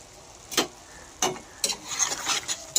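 Prawn malai curry being stirred in a pan: a few separate scraping strokes, then a busier run of stirring and faint sizzling, close by with no voices.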